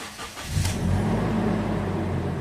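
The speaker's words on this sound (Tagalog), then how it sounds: "Pa-start ko na itong makina." A Toyota Innova engine cranks and starts, then settles into a steady mid-pitched idle that rises slightly in revs, heard close up and alone.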